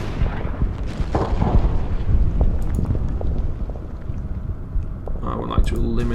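Artillery fire in the World War II strategy game Order of Battle, deep booming blasts and rumbling impacts over several seconds, loud and continuous, with a voice talking over it.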